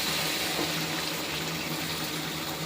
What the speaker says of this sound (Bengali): আর এই যে গরম জল দিয়ে দিলাম।